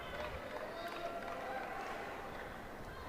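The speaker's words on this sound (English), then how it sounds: "And just listen to the crowd. They're starting to get excited." Tennis crowd at the 2020 Adelaide final, a steady broad murmur of many spectators building in excitement, continuous and fairly distant with no single loud outburst.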